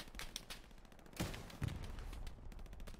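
Gunfire from a machine gunner in a video game, with sharp bursts of shots over a busy battlefield backdrop, two heavier thumps standing out midway.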